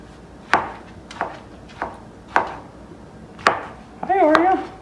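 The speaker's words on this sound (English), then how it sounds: "just kind of chopping them up" A knife chops ripe tomatoes for homemade guacamole, giving six sharp, evenly spaced knocks on a cutting board close by. A short warbling tonal sound rises near the end.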